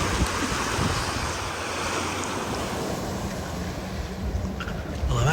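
Ocean waves off Antigua, recorded from out in the water: a continuous broadband wash of surf with heavy wind buffeting the microphone, steady and close, with no voices.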